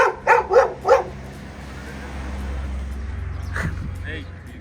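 A German Shepherd barks four times in quick succession, fairly close, followed by a low engine rumble and a couple of fainter yips.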